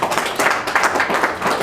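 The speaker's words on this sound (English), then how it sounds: "Ladies and gentlemen, can we now applaud to Doctor who gave this." Audience applause at an inauguration ceremony, a short burst of dense, rapid clapping from many hands, loud and close throughout.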